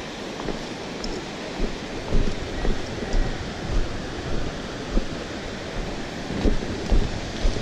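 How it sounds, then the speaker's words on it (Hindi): Rain pours outdoors on a monsoon trek to Jogi Waterfall, a dense, steady wash of noise with scattered heavier patters and low thumps. No one talks. "Wow, it's raining."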